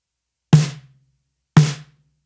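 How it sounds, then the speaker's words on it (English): Two short, tight snare drum hits about a second apart, each dry and heavily dampened with almost no ring afterward. "So the snare sounds like this."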